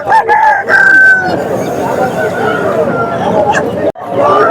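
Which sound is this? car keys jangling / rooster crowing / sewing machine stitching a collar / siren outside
rooster crowing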